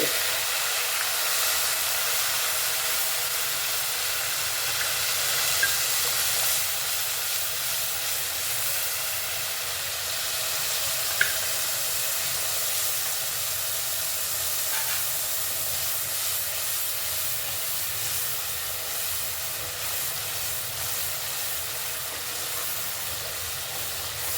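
Onion, ginger-garlic, chilli, tomato and tamarind paste frying in a pan, a steady close sizzle and hiss running unbroken throughout, with faint occasional clicks.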